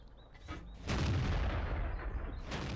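Heavy tank cannon fire from a Type 62 light tank in a World of Tanks-style battle game: a sharp, loud boom that rolls into a long low rumble, with no talk over it.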